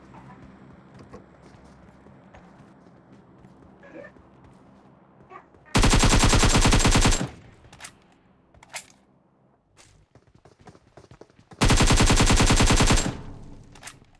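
Two long, loud bursts of rapid automatic gunfire from the PUBG mobile game blast out, each lasting over a second, with quieter scattered shots, clicks and faint talk in between.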